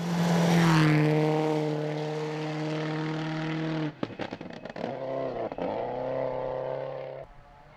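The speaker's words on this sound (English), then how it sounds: "great to see Dylan's spectacular sideways driving style is still out there" A 4WD rally car drives sideways on a gravel rally stage, its engine holding a loud sustained tone before a burst of crackling shifts and gravel spray. The engine then settles into a steady drone and cuts off sharply.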